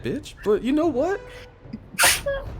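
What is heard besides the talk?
sneeze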